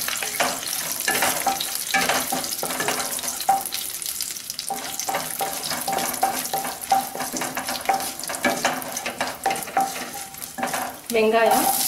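Cashews and peanuts frying in hot oil in a pot for tomato pulao, a loud continuous crackling sizzle with frequent stirring scrapes and clatter throughout, a brief metallic rattle near the end.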